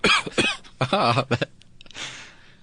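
A human voice imitates a cough, giving a few sharp, throaty bursts in quick succession, followed by a softer breathy rasp; close and fairly loud with no other sounds.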